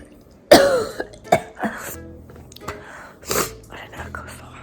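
Heavy, forceful coughing from a person recovering from Covid-19: a few loud, close bursts with short pauses between them, plus rough throat-clearing sounds.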